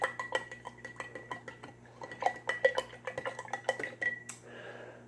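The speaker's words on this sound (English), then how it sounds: "And stir it up" A spoon clinks and scrapes against the inside of a glass or bowl while stirring a blue milk mixture with sugar, giving quick rhythmic metallic taps, close and clear, ending with a brief softer rustle.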